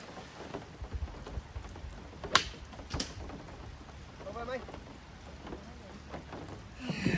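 Heavy rain falls steadily on a golf course, heard from inside a golf cart as a constant hiss with scattered drop impacts, a few louder knocks, and faint voices in the background.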